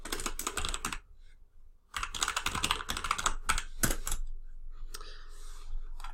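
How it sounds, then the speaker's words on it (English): Rapid clicking keystrokes on a computer keyboard come in two bursts split by a short pause, then lighter scattered taps, close and clear with no speech. "be careful as you type this."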